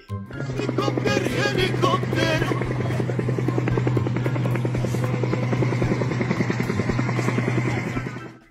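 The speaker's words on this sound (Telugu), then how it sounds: "సీలింగ్ ఫ్యాన్ ఏదో డ్రోన్ లా తిరుగుతుంది" A ceiling fan at a function gives a steady, droning whir with a strong low hum, running continuously, loud and close, buzzing the way a drone does.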